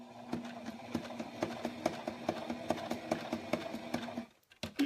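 A sewing machine stitches around the edge of a gingerbread man hand warmer, with steady rhythmic needle clatter for about four seconds before it stops, then a few soft handling noises.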